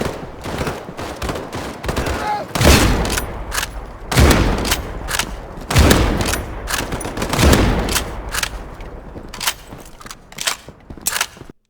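Dense gunfire from the WW2 shooter game Battalion 1944 cracks without pause: rapid rifle shots and bursts overlap, with several heavier booming reports standing out, all loud and close throughout.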